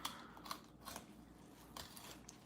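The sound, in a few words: shears cutting the belly of a fish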